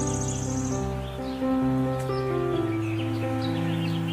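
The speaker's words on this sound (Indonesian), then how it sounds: "ditemani oleh suara burung dan suara binatang-binatang kecil yang ada di hutan ini" Birds chirp and call steadily in a small forest in Tana Toa, Kajang, Bulukumba, South Sulawesi, layered with the calls of small animals into a dense, continuous, tonal chorus that carries on throughout.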